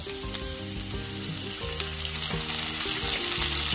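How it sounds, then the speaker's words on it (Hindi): Onions frying in a pan as the base for chicken curry, a continuous close sizzle under a background of tonal music. "प्याज थोड़ा फ्राई हो गया है"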